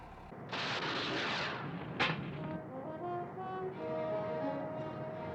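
Device fired in the Thunderbirds puppet series, heard as a sustained loud roaring blast with a sharp crack partway through, followed by a lingering mechanical whine and rumble.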